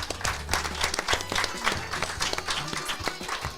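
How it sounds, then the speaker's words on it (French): An audience claps in a lively burst of applause, with dense, overlapping hand claps that hold steady for a few seconds. "D'applaudir Abder."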